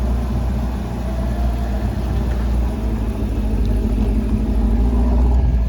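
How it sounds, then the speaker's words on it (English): A Chevrolet Camaro engine rumbles steadily at low idle, growing slightly louder toward the end as the car pulls out of a dealership lot. It is close and fairly loud, with no talking. "I just finished up the Camaro, so try to get a video of it pulling out real quick."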